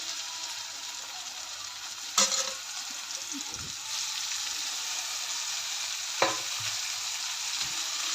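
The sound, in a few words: spinach and peanuts being stir-fried in a pan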